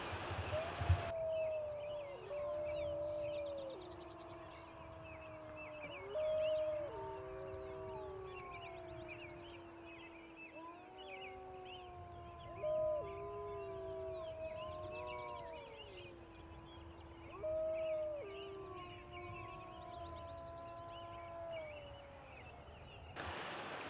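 Wild wolves howling together outdoors, several long rising and falling howls overlapping in a chorus, heard at moderate distance over a quiet background hiss, with no talk.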